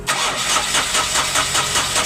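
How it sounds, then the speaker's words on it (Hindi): An Ashok Leyland Dost truck's diesel engine, previously failing to start with fault codes P0641 and P0192, cranks and catches, settling into a loud, close, steady rhythmic chugging. "तो ये अपना जो इंजन है वो स्टार्ट हो चुका है कंप्लीट सक्सेसफुली।"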